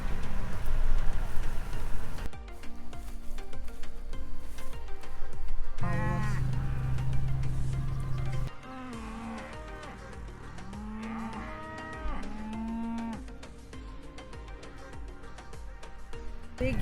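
Cattle mooing loudly nearby on a family farm, several long, deep lowing calls overlapping, with background rumble at the start.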